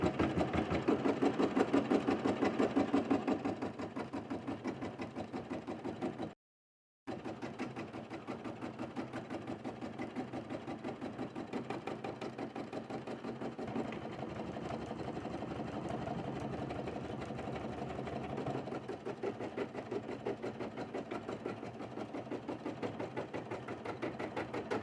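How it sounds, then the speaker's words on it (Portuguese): Embroidery machine stitching fabric held in a hoop, with a steady rapid needle chatter running throughout; a brief gap of silence breaks the stitching early, then the continuous mechanical rattle resumes at an even pace. "aqui eu já coloquei, né, o bastidor na máquina e ela vai prender pra mim os tecidos"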